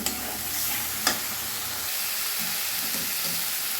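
Chana dal sautéed with spices in a pan, a continuous close hiss of frying with a sharp spoon scrape near the start, heard alone.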